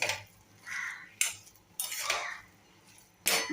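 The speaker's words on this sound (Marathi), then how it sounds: "वरून कोथिंबीर घालूया मिक्स करूया मिक्स करून घेऊया" Vermicelli upma topped with coriander is stirred in a pan, with several loud, close metallic scrapes and clinks of a spoon against the pan separated by short pauses and no speech.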